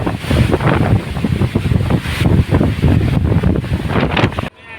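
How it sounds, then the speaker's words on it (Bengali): Strong, roaring wind of a storm at about 60 km/h buffets the microphone in loud continuous gusts over a wetland, with rushing water and rain noise beneath, cutting off abruptly at the end. "প্রচণ্ড বাতাস প্রচণ্ড ঝড় ষাট কিলোমিটার ব্রেগে"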